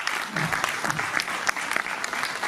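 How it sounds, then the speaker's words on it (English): Audience applauding at a musical night event for the unveiling of a single, steady dense clapping throughout with scattered louder claps, with some vocal sounds mixed in. "please, a round of applause for..."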